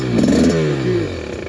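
A brand-new 2024 TE300 dirt bike engine struggles to idle, a close, loud, uneven two-stroke burble that wavers and sags in pitch.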